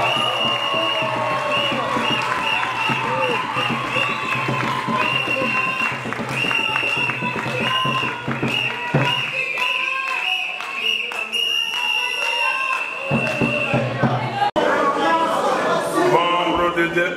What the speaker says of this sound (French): j'invite le candidat Martin Fayulu à venir prononcer son mot de circonstance sous vos applaudissements